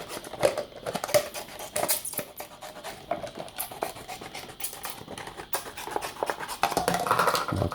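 Scissors snip through a plastic bottle to cut the bottom off, a series of close crunching cuts and plastic crackles with handling scrapes for a Cadaghi trap.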